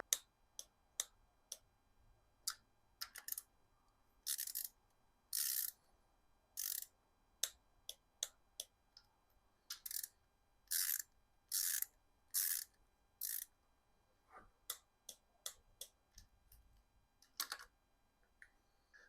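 Torque wrench ratcheting while tightening engine head bolts on a Subaru Legacy Outback engine during assembly, heard as close, crisp clicks in bursts and short runs with pauses between, alone in a quiet room.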